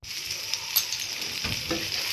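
Tomato frying with chopped onion, ginger and garlic in a pan, a steady close hiss of sizzling with a faint stirring scrape partway through.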